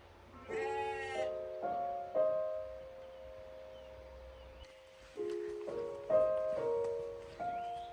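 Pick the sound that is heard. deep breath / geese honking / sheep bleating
sheep bleating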